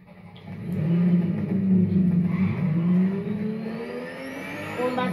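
A car engine revs and pulls away nearby, its pitch climbing through the gears as it accelerates, then easing and fading as the vehicle moves off, with no talking.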